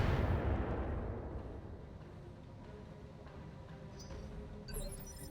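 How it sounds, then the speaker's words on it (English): Mech weapons fire in the BattleTech RogueTech mod, one heavy booming blast that fades into a long rumbling decay, with lighter metallic clinks near the end. "Shooting at the Bull Shark."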